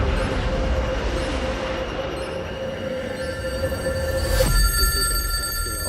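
A telephone rings in a nuclear war simulation, a sustained electronic ringing tone that runs for several seconds over a rumbling background before cutting off sharply.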